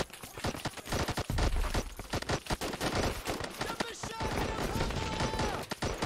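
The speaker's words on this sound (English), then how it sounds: "Multiple grenades exploding." Several grenades exploding in a Call to Arms battle at an Afghan village under Russian assault, with a rapid chaotic run of blasts and gunfire-like cracks, loud and dense, joined later by sustained tonal battle noise.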